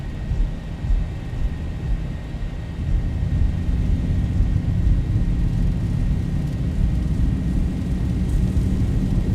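Boeing 737-800 jet engines spooling at takeoff power in the X-Plane 11 flight simulator, a steady loud low roar and rumble holding through the whole stretch with no talk.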